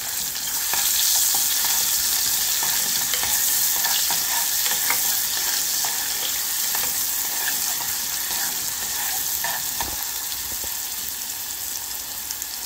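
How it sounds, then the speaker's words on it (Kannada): Mustard seeds and onions frying in oil in a pan for a North Karnataka style stuffed brinjal curry, a steady close hissing sizzle with faint crackles and occasional stirring scrapes, no talking. "ಫಸ್ಟು ಸಾಸಿವೆ ಹೊಟ್ಟಬೇಕು, ಆಮೇಲೆ ಈರುಳ್ಳಿ ಹಾಕಬೇಕು."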